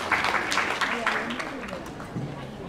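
Audience applause at a Korean women voters' league award ceremony for women politicians, a dense burst of clapping from a crowd filling the hall, loud and steady before tapering slightly.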